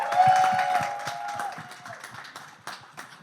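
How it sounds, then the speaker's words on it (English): Podcast audience applauding, a light, scattered clapping of a small group that thins out over a few seconds, with a faint tone briefly sounding at the start. "we just want to give them a nice welcome with a round of applause"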